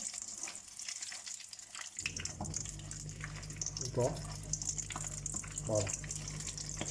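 Tuna and egg brick pastry sizzles in hot oil in a pan, a steady soft crackle and hiss running beneath someone speaking French close by.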